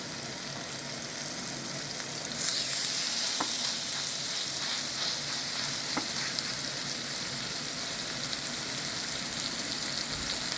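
Stuffed chicken with mushrooms frying in a pan, a dense continuous sizzle that swells louder after a couple of seconds and stays steady, with a few faint taps of a utensil, close and without voices.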